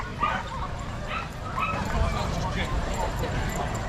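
Excited dogs bark and yip at a parkrun start, several sharp barks scattered over crowd and outdoor background noise at moderate distance.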